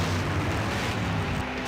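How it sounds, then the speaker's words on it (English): Explosion in the game Full Throttle, a loud rumbling blast that fills the short moment and rolls on as a dense sustained roar without a clear attack. "Now that's an explosion, ladies and gentlemen."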